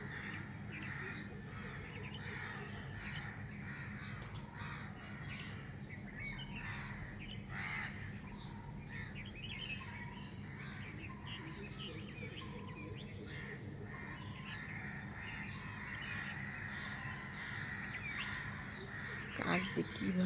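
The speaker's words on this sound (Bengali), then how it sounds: "কাক যে কীভাবে ডাকাডাকি করছে" Crows caw repeatedly among trees in the morning, harsh calls near and far with smaller birds chirping, while a person talks over them throughout.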